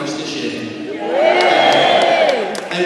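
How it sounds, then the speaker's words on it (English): An audience cheers and whoops in response to a host's opening speech. The crowd noise swells after a second and holds loud and steady, with voices mixed throughout. "Give me a cheer if you think the gorillas have leaked up Norwich this year."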